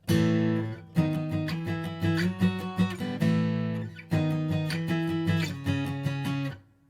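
An acoustic guitar plays a short riff, strummed chords and picked notes, clear and close, with brief pauses between phrases.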